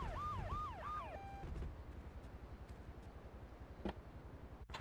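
A wailing ambulance siren in Grand Theft Auto 3 sweeps up and down briefly at modest volume, then fades out under a low, pulsing engine drone.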